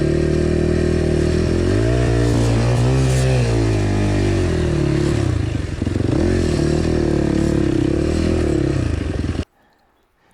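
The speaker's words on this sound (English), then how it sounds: "The motorcycle sounds better in a GoPro." A motorcycle engine runs loud and close, revving up and down with a raspy, throaty rumble before cutting out abruptly near the end.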